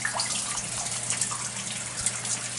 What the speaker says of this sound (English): we are here at the famous Fountain of Youth getting the water